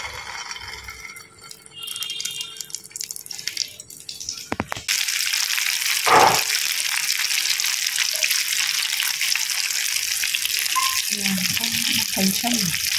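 Sweet stuffed poornam borulu dumplings dropped into hot frying oil, starting as a sudden loud, continuous bubbling sizzle close by that carries on steadily, with some voice and light handling noises under it at the end.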